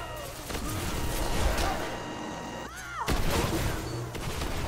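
Shotgun blasts in a shooter video game, heavy booming shots spread amid a loud, chaotic firefight, with a brief dip before the firing picks up again.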